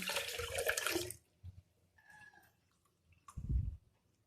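Cold water pours in a rushing, splashing stream for about a second, then stops, followed by faint clinks and a brief low thud.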